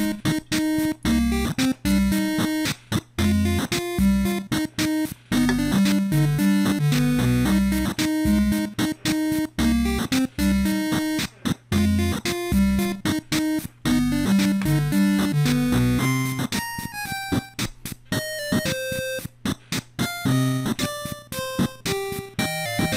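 Chiptune Christmas song in NES style, made in FamiTracker: bright square-wave melody over bouncing bass and noise-channel percussion, playing loud and continuous with a brief gap near the end.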